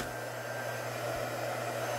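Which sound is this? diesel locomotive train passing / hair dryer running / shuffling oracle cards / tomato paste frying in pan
hair dryer running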